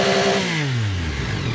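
A Yamaha R9 motorcycle engine revs hard in launch control mode, a loud buzzing rasp with pitch sweeping downward as revs settle, heard close and alone.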